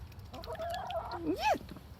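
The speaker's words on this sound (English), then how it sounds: "The chicken pecking me." A single chicken gives a short, rising-and-falling cluck-squawk, close by, over faint background noise.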